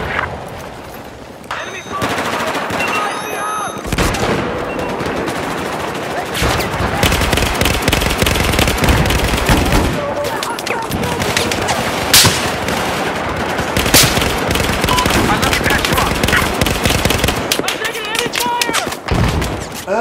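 Dense, loud gunfire from a Battlefield 4 firefight, with rapid automatic bursts and sharp cracks sustained almost throughout, a voice talking over the shooting.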